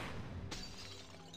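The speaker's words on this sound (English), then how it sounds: "Hit the glass jar with Flipendo." A single sharp crash of a glass jar shattering when hit by the Flipendo spell in the Harry Potter and the Chamber of Secrets console game, followed by a brief tinkling decay over low background hum.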